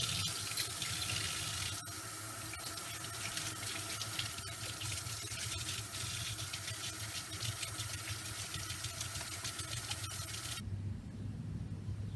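Water runs steadily from a sink faucet while nails are scrubbed with a scuff pad, a continuous rushing flow with faint rubbing texture, cutting off abruptly near the end.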